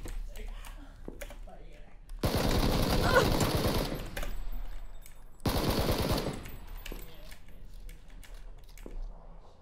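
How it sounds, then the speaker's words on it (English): Two loud bursts of automatic gunfire in PlayerUnknown's Battlegrounds, each lasting a few seconds, with fast rattling shots over a quieter background, and players talking between them. "Someone's shooting at him"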